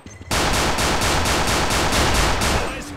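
A freeze gun in a Counter-Strike zombie mod fires a rapid burst of loud, evenly spaced shots, roughly four per second, close up and alone for about two and a half seconds.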